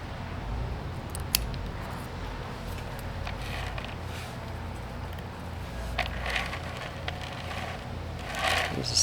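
Bonsai branch cutter snipping off stubs while pruning a cotoneaster, quince or maple in fall, giving a few quiet, scattered clicks and snips against faint background noise.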